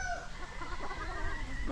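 Hens kept out of battery cages on a cool Filipino poultry farm cluck softly and steadily, a low continuous flock murmur with occasional higher calls and no talk over it.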